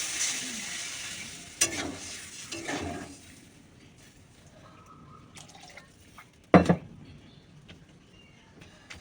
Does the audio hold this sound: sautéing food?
yes